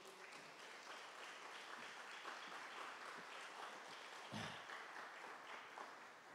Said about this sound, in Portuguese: Você pode se colocar de pé, pode aplaudir o Senhor Jesus pela sua vida.